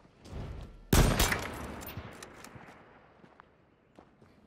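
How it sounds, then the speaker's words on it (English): A sudden burst of gunfire rings out in the video game H1Z1 after a few soft footstep-like sounds. The shots come in a rapid cluster and then taper into scattered fainter pops. The whole passage is fairly quiet and distant. "Where are you shooting?"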